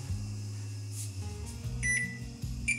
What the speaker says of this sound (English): So we can go ahead and set our timer.